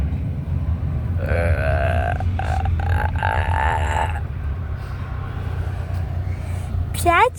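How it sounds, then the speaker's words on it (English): Cartoon characters in a burping contest let out a long, loud, wobbling belch that runs over several seconds, with a shorter rising burp near the end over a low background rumble. "I heard a burp"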